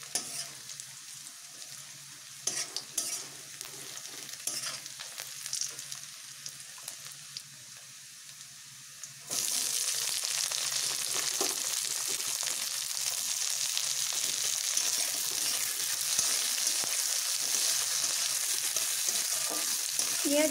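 Chopped onion and capsicum being stir-fried for chili chicken: a quieter sizzle with spoon scrapes first, then a sudden loud, dense frying hiss as the vegetables hit the hot oil and keep crackling steadily.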